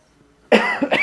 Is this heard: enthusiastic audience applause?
no